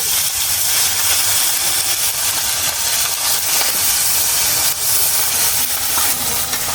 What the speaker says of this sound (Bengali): পেঁয়াজ আর রসুনটা ভালোভাবে ভাজা হোক